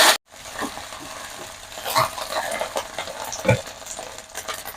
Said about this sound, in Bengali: আমি এক চামচ ঘি তেলের মধ্যে দিয়ে দেব শুকনো লঙ্কা পাঁচ ফোড়ন দিয়ে দিয়ে দেবো